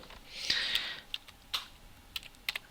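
Keys tapped on a computer keyboard in a quiet room, a short burst of soft rapid clicks followed by several separate isolated keystrokes, close and alone.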